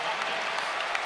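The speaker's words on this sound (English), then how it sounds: "Hopkins gets some applause as he goes to the bench." Steady, fairly loud applause fills a basketball arena as the crowd claps for a freshman player heading to the bench during a Kentucky college game, a continuous wash of hand claps with no gaps.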